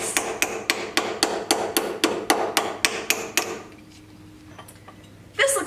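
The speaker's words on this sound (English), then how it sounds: "I'm going to take my ball peen hammer and gently hammer across this corner" A ball peen hammer taps sheet metal along a corner to form a crease, in a steady rhythm of about fifteen sharp, ringing strikes, then stops; a quiet pause follows before a brief noise at the end.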